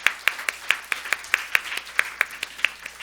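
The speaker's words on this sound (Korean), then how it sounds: "아무튼 두 사람에게 격려의 박수를 드리고 싶습니다." A small church congregation at a Sunday worship service in Seoul claps in a sparse, steady rhythm of distinct hand claps, about four per second, moderately near, with no voices over it.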